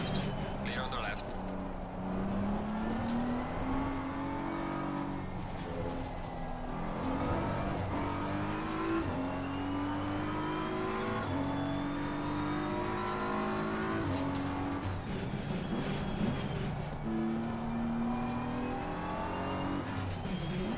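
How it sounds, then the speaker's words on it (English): Race car engines in Assetto Corsa Competizione, played online on Xbox Series X, drone and rise in pitch as several cars close in, with steady harmonic revving that swells and falls throughout, under an intermittent voice. "Faster car is approaching."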